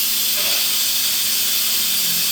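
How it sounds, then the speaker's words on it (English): Steam hissing out of a cooking pot of vegan stew, a loud, steady broadband hiss that fills the whole moment without letup, close by. "I'm gonna let some of that steam out."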